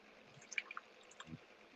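Water drips indoors in a few soft, separate droplets over a quiet background hiss, faint and close, with no speech.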